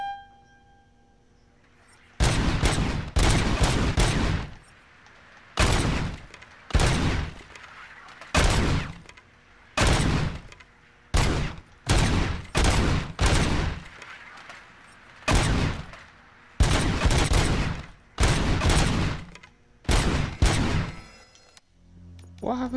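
Repeated bursts of automatic gunfire from Robocop's upgraded gun in Robocop: Rogue City, a dozen or so loud, close volleys of roughly a second each separated by brief pauses.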